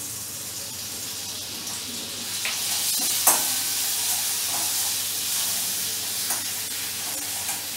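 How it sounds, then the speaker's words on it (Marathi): Coarse ginger, garlic and green chili paste dropped into hot oil for Mumbai vada pav: a loud, continuous sizzle close by, with a few light stirring scrapes and clinks, and no talking. "तेल गरम झालेलं आहे. आपण याच्यात आलं, लसूण आणि मिरची याची भरड जी केली आहे ती घालून घेणार आहे."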